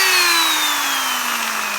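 A Makita power drill runs in reverse with a steady high whine whose pitch slowly sinks as the motor winds down, loud and close, with no talking.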